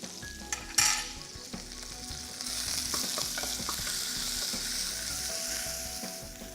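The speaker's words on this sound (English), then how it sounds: "So I have to caramelize this onion till they are pretty much brown in color" Sliced onion with a pinch of salt and a little fennel fries in a pan, starting with a few sharp clinks and settling into an even, close sizzle with occasional stirring.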